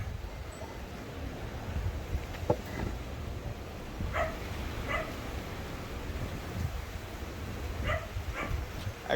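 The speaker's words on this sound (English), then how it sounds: "I guess that dog's not gonna stop barking." A dog barking somewhere off at a distance, faint scattered barks and yips recurring irregularly over a quiet outdoor background.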